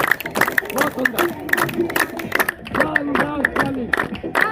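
Group clapping during an exercise training session, bursts of rhythmic claps mixed with crowd voices and someone speaking over the top, fairly loud and close throughout.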